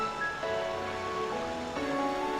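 Bubbling water ambience from a visual novel game, a steady close wash of running water that continues evenly throughout, with soft sustained musical tones layered over it.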